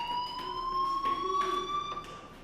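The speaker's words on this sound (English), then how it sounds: "Hey, do you hear that fire alarm?" School fire alarm in the video game Life Is Strange, a steady high electronic tone with faint pulsing beeps ringing continuously throughout, moderately loud with no voices.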